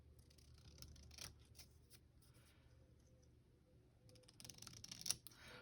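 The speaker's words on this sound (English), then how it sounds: "Let's just cut this out." Scissors snip through paper to cut out a small image for a collage tag, with quiet, scattered cuts that grow a little louder and busier near the end, in a quiet room.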